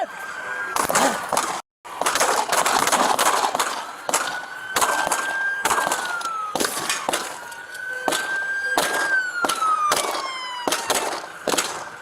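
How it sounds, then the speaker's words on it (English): Several sharp gunshots crack in quick bursts during a police shootout, loud and close, with a siren wailing and sliding in pitch underneath and brief gaps between the volleys. "Multiple shots fired."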